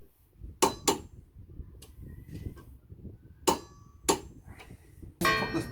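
Sharp metallic clicks and clanks ring out at irregular intervals as a torque wrench tightens tow bar bolts under a Ford Transit van, close and distinct against a quiet background.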